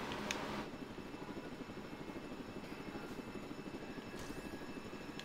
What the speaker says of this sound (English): pick up this helicopter